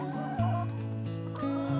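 Six-month-old laying hens in the evening, about to roost, give a steady run of tonal clucks and calls that stay close and fairly loud throughout, with no talking.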